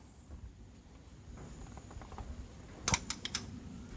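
A socket wrench works on a Jeep Wrangler's lug nuts, with faint mechanical shuffling building into a quick burst of sharp ratcheting clicks near the end.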